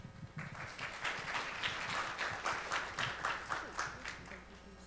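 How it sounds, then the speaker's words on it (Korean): Conference audience applause welcoming a speaker at an accounting forum: a few seconds of moderately distant, even clapping from a seated crowd that holds steady, then fades. "여러분의 큰 박수와 함께 발표 청해 듣겠습니다."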